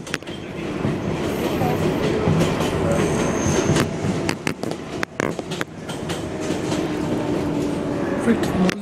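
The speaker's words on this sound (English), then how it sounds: "Train car, move!" A New York subway 4 train, an R142A car bound for Woodlawn, rumbling loudly along the rails with steady clickety-clack, brief squeals and sharp clunks, heard from inside the car.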